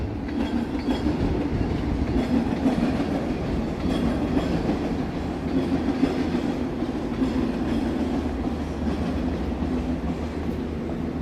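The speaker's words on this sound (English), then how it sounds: "There goes a train." A train rolls steadily past on city rails in Toronto, a continuous low rumble with faint wheel clatter holding at an even level throughout, no voices.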